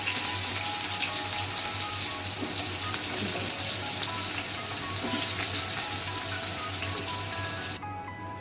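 Sliced onions fry steadily in a pan for egg biryani, a continuous close hiss and sizzle with faint crackles that runs throughout and drops slightly in level near the end.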